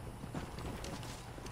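Horse hooves in Red Dead Redemption Undead Nightmare, a quick run of soft clip-clop footfalls under a steady wash of game ambience, brief and moderately faint.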